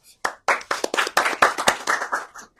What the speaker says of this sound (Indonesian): Keren banget, tepuk tangan.